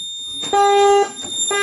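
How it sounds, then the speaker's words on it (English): A fire alarm panel goes back into alarm during a system test, giving a loud, steady electronic tone that holds for about half a second, drops out, then starts again. "Yep, it's gonna go back into alarm again."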